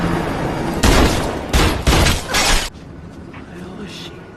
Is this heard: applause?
no